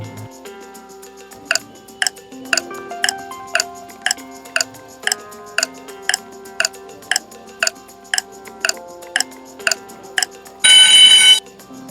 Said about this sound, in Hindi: इसके लिए आपको 10 सेकंड का टाइमर भी मिलेगा।